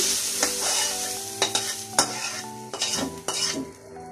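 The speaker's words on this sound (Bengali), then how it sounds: "করলাটা ভাজা হয়ে গেছে, ভাজলাম।" Bitter gourd sizzles as it fries in a pan, with a steady crackle beneath a series of sharp spatula clinks and scrapes as the slices are stirred.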